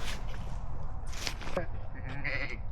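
Sheep bleat a few times at close range on a hiking trail, the Panoramaweg near Perl, with people talking in French nearby over a rumbling background.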